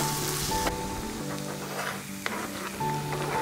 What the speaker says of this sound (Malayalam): ഈ പച്ചമണം പോകുന്നവരെ നന്നായി വഴറ്റുക